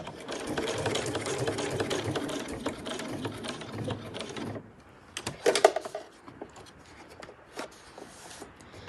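A sewing machine stitches a backpack front flap, running in steady bursts of rapid mechanical chatter, stopping briefly around the middle, then resuming in short, uneven runs up close.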